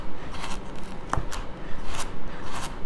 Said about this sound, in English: And then I'll just line them up with my knife and slice.